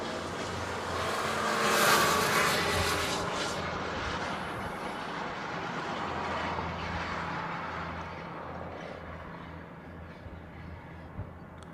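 A Boeing 737-200 airliner departs from the reef runway in Hawaii, its broad jet roar swelling to a peak early on, then lingering as a steady, gradually fading rumble with no voices.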